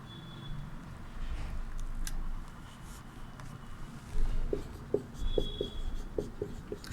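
Chalk or marker writing on a classroom board during a Hindi lesson, giving quick taps and short strokes that cluster in the second half, fairly close, with faint room noise and no talk.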